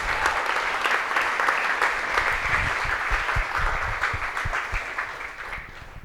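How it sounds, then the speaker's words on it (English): A large audience at a corporate thank-you event applauds in a sustained, dense roar of clapping that holds steady throughout and thins slightly at the end. "that deserves a round of applause"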